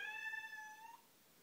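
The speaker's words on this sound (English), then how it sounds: "And there's my cat Cuddy." A house cat meowing in a bathroom, one drawn-out tonal meow that is faint and close, over a low background hiss, with no talking.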